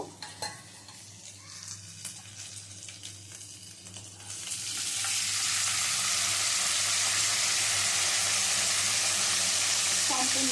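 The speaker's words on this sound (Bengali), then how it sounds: "চালটা একটু ভাজা ভাজা করে নেবো মিনিট তিন চারেক ধরে চালটা ভেজে নেব" Marinated rice for an ilish doodh pulao frying in oil, a quiet low sizzle with faint stirring that swells after a few seconds into a loud, steady, hissing fry that continues to the end.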